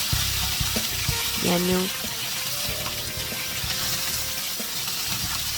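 Cod fish frying in hot oil in a home kitchen, a steady crackling sizzle running throughout, with brief clinks and someone talking over it.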